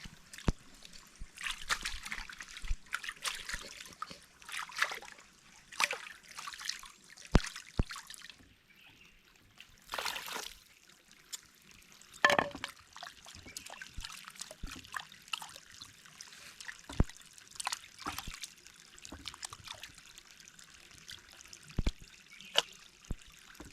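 A pot being washed with water: repeated trickles, splashes and drips come in short irregular bursts, with faint talk in the background.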